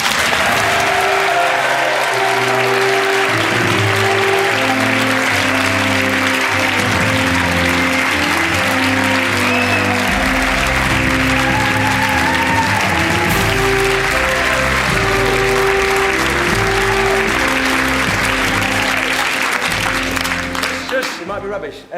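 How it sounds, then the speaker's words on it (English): A studio audience at a BBC radio sketch-comedy recording claps loudly and continuously for Matt Lucas and David Walliams, with a bright theme tune playing over the applause before it all tapers off at the end. "Give a big round of applause for Matt Lucas and David Walliams."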